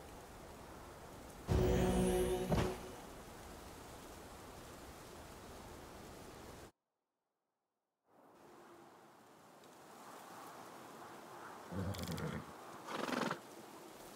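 A horse whinnies loudly in the video game Pathfinder: Wrath of the Righteous, then whinnies again more faintly after a brief silence, over a steady background hiss.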